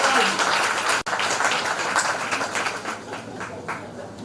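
Audience applause at a primary school leaving ceremony, a dense spread of clapping that starts loud, breaks off for a split second, then continues and slowly fades, with voices mixed in.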